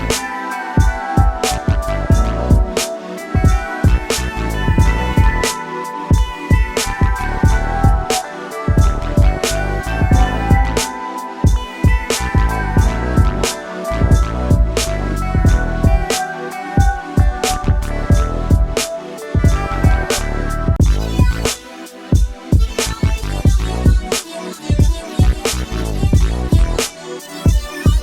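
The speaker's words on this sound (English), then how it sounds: "So what you heard was the raw sound coming straight from XSynth" Raw, unprocessed output of the XSynth synthesizer playing a busy melodic electronic pattern with a pulsing beat and brief dropouts, loud and continuous for almost half a minute with no talk.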